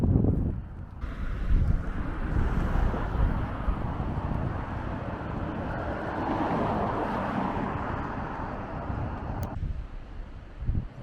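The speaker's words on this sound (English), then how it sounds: "wind's picking up." Wind gusts buffet the microphone outdoors beside a dam in Spain on a clearing day after wet weather, a steady loud low rumble that swells and eases for about eleven seconds with no talking.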